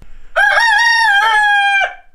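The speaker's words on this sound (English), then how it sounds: "these roosters, like now, they're crowing like crazy" Roosters on a farm crow loudly and close by, a single long drawn-out cock-a-doodle-doo call held steady, with no talk over it.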